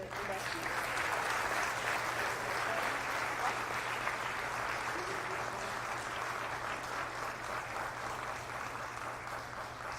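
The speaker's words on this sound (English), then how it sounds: "Round of applause for our all new inductees." Sustained applause from an audience at a high school honor society induction ceremony, steady and somewhat distant, with a low constant hum beneath the clapping.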